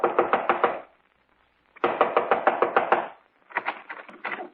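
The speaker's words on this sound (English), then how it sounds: "I was knocking on his front door" Knocking on a front door as a radio drama sound effect, three bursts of rapid firm raps separated by short pauses, close and clear with no voices.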